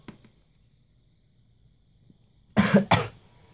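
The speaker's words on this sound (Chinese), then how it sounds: "然后大家会听到我咳嗽哦" Two close, sharp coughs from a person with a cold, coming after near silence with faint background noise.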